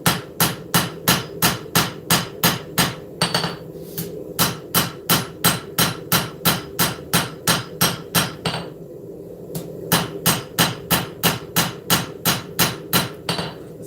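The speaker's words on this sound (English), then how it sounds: "without massive hammer strikes" A hammer strikes a hot knife blade on an anvil, planishing it in a fast, steady series of ringing metallic blows with two brief pauses. Loud and close, with no talking.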